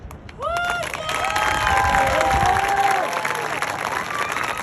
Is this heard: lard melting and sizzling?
no